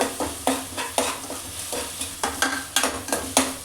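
Ginger garlic paste frying on high heat for egg keema, with quick repeated spatula strokes against the pan over a bright, close sizzle, no voices.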